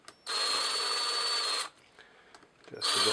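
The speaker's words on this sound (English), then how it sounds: "I usually like to take just an impact driver and just start the bolts in gently" An impact driver runs a bolt into a cam cap on a DSM 4G63 engine during valve spring replacement, whirring steadily for over a second, pausing, then starting again, close and fairly loud.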